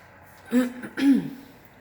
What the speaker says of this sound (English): Sorry if I clear my throat a lot